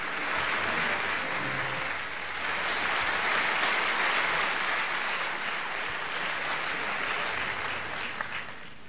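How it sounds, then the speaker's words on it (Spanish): Sustained audience applause fills a concert hall before a performance by the Argentine National Symphony Orchestra, a dense, steady wash of many hands clapping at fairly even loudness throughout. "Escucha, unos aplausos suenan"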